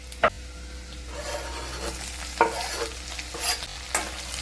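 Green chillies, garlic and cumin frying in oil for dhaba-style chole, a soft steady sizzle broken by a few sharp stirring clatters and scrapes near the pan, no voices.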